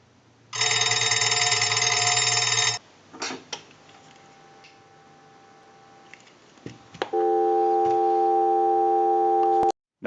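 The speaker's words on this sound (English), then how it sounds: "we'll give you some dial tone" A vintage Automatic Electric three-slot payphone sounds a loud, steady tone that stops after two seconds, followed by quiet clicks and rustling, then a second steady tone holds for nearly three seconds before cutting off.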